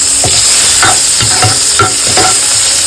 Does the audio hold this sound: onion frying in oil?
yes